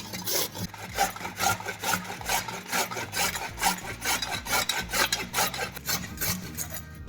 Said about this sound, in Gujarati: આવી રીતે આખા ગાજરનું ખમણ કરી લેવાનું છે.